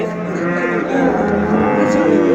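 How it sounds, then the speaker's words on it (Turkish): A dairy cow at a Göksun livestock market in Kahramanmaraş gives a loud, close, sustained moo lasting a couple of seconds. "Sütlü inek."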